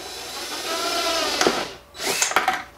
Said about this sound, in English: make sure that you make note of how high you drilled it and drill that same distance